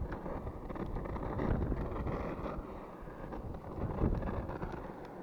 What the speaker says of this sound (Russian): Небольшой ветер на улице.